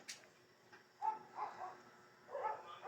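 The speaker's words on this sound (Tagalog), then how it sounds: "Asong nagsusumbong." A dog barks faintly at a distance outdoors, a few scattered soft barks and yips spread across a few seconds over quiet background.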